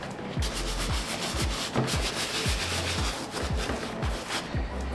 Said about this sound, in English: Using a towel to soak all that up.